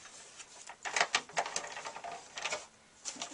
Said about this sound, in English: Just emboss that real quick